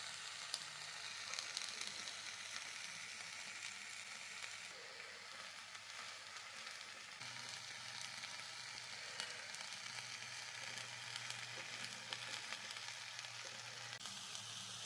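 A whole tandoori chicken brushed with oil sizzles and roasts in a pan, giving a steady, even crackle that holds quietly and continuously without any talking.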